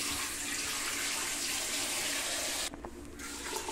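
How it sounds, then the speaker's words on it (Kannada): Two cups of water rush steadily into a pot of masala rice, a loud continuous pour that cuts off near the end, leaving a quieter trickle. "2 ಚರ್ಗೆ ನೀರನ್ನು ಹಾಕೊಳ್ಳೋಣ."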